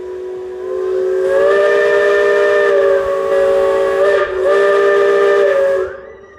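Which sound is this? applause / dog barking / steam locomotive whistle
steam locomotive whistle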